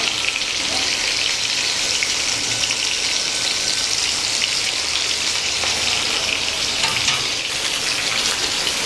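Rawa-coated Bombil fish fry on a hot tawa with a loud, steady, dense sizzle that holds evenly throughout, close up and with no talking.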